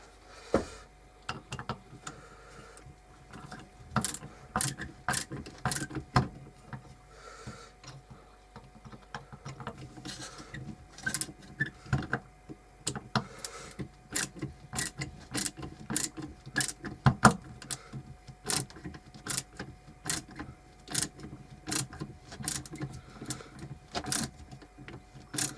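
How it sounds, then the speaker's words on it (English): An old, worn screw being driven by hand with a flathead screwdriver into a wooden bird table perch: a long run of faint, irregular clicks and scrapes with brief pauses, with no talking. "And then we screw it on."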